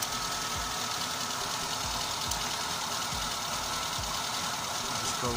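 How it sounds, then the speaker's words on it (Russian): A car engine, slightly misfiring, idles close by with a steady rumbling beat broken by periodic low thumps and uneven stumbles, alone without talk. "Двигатель у нас слегка подтраивает."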